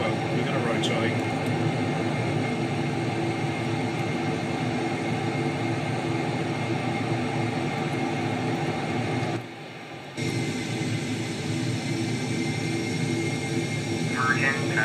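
Virgin Atlantic Boeing 747-400 jet engines roaring at full power during the takeoff roll and rotation, a loud, steady broadband rumble that dips briefly, heard from inside the aircraft.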